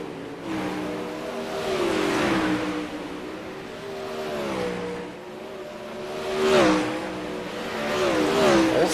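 Dirt track race cars roaring around an oval, engines swelling and fading as cars pass by in waves, loud and steady with no talking.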